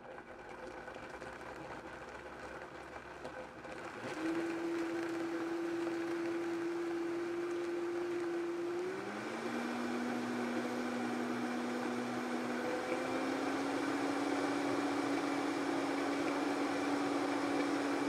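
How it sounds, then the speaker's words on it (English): A kitchen blender whirs through green goddess salad dressing made with green onions, starting up after a few seconds of quiet, then running as a steady, loud motor drone whose pitch shifts as the contents blend, with no talking. "Let's get this blended up."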